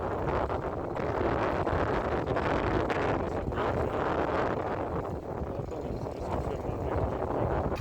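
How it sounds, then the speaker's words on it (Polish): Strong wind buffets the microphone continuously while trolling for pike on autumn water, a heavy rumbling roar that never lets up. "Wiatr będzie zabierał głos"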